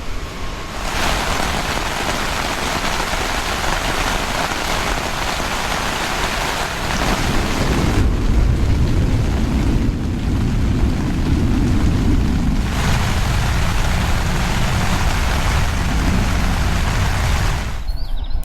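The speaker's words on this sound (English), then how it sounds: "Just starting to get some rain here." Steady rain patters hard against a tent with gusting wind rushing over it, the wind swelling louder midway and easing near the end.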